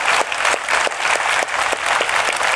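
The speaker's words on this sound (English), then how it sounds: "Let's give her a big round of applause" A hacking conference crowd at DEF CON breaks into sustained applause, a dense, loud wash of clapping with steady bursts close by and no talking over it.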